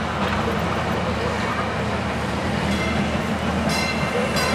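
A train passing nearby, a loud continuous rumbling roar with rattling that holds steady throughout, with a voice speaking over it.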